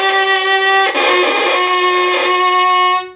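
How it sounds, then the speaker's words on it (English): A violin bowed with too much pressure gives a single sustained, scratchy and harsh tone lasting about three seconds, loud and close, with a slight break near the start and no talking. "When you press too much, sometimes you hear this sort of scratchy sound."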